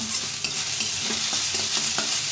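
Coriander leaves with salt and turmeric frying in a pan, a steady soft sizzle with repeated scraping stirs close by.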